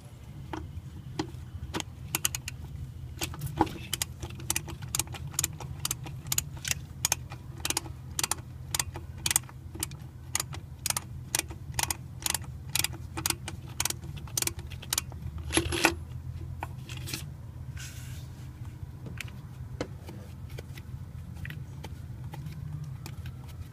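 Rapid clicking of a Snap-On flex head ratchet turning a 1 1/8 deep socket on a Ford 7.3 Powerstroke diesel engine, a steady run of sharp ratcheting strokes up close, with a brief louder knock partway through and quieter shop noise after.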